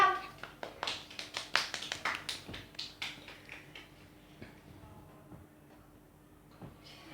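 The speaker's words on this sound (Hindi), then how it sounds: "चलो तालियां" A handful of people clap hands at home after a kids' food-eating challenge, a quick burst of sharp claps that thins to scattered ones, while someone speaks over it.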